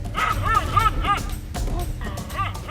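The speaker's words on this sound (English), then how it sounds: "a strange dog suddenly rushed toward them, barking loudly." A small dog barks loudly and repeatedly in bursts out on open grassland as it charges a pair of lions, its sharp yapping close and layered over low rumbling background noise.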